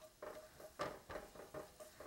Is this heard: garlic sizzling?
yes